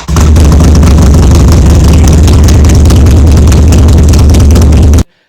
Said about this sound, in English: I've got a very, very loud Harley Davidson.